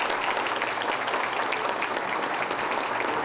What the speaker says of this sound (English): Would you give these Hall of Fame members a round of applause?